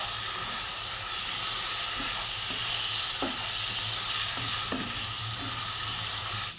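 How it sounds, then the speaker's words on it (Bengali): Potatoes fry in spiced oil in a pan, a loud, dense, continuous sizzle up close, with several soft scrapes and knocks from a stirring spoon. "এবার আমি আলুগুলোকে দিয়ে দেবো, দিয়ে ভালো করে মশলার সঙ্গে মিশিয়ে নেব"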